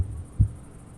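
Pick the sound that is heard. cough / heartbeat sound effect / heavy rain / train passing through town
heartbeat sound effect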